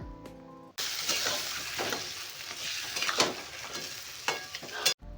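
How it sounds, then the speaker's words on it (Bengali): Giant freshwater prawns are stirred into spice paste in a pan: a soft sizzle sits under repeated close scraping strokes and a few light clinks, with no talking. "তো মশলার সাথে চিংড়ি মাছটাকে ভালো করে মেশাতে হবে।"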